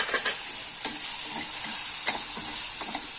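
Potato filling sautéing in a pan with turmeric and lime juice, a soft continuous sizzle with a few light stirring scrapes and taps, close and alone.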